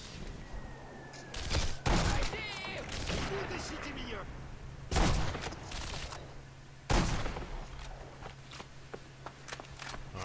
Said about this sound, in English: There's somebody shooting us from like up high.